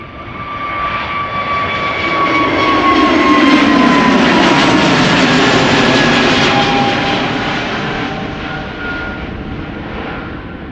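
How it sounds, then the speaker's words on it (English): An Airbus A321neo passes at Schiphol Airport, its jet engines roaring up from a distance to a loud peak with a high whining tone, then fading away again. "So we've now heard the A321neo."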